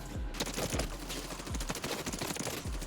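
Very fast automatic gunfire from a close-range weapon in Warzone, a dense unbroken burst of rapid shots running the whole stretch at steady loudness, with low thumps recurring beneath the crackle.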